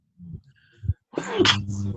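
A single sharp sneeze from an adult during an indoor interview, a brief quiet intake followed by an abrupt burst near the middle, then speech-like voicing trailing after it.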